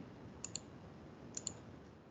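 Mouse clicks while choosing Quick and Estimate Equation from the menu in EViews 10, falling as two quick pairs of faint, sharp clicks over a low steady background hiss.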